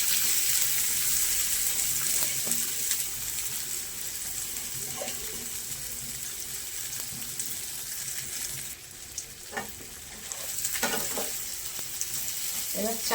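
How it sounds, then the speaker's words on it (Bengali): Rice frying in a pan with whole garam masala, cinnamon stick and bay leaves for basanti pulao, a steady hiss of sizzling broken by occasional stirring scrapes and clinks, fairly close and with no talking. "এবার চালটাকে ভালো করে ভাজতে হবে।"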